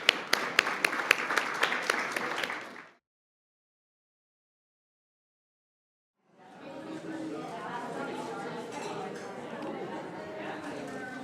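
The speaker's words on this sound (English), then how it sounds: "Why don't we give them a round of applause" At a knowledge-sharing conference in Vancouver, a few seconds of scattered, distinct hand claps for the speakers cut off into silence, followed by a steady murmur of crowd chatter in the room.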